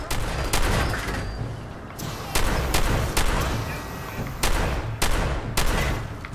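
Shotgun blasts in Fallout 4 Nuka World crack out as sharp, loud single shots, about eight spaced irregularly over several seconds, over a rumbling background with a voice now and then.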